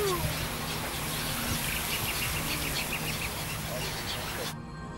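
Birds call faintly and repeatedly across the Camargue wetlands, home to flamingos, golden eagles and Bonelli's eagles, with chirps scattered over a steady outdoor hiss and no talk.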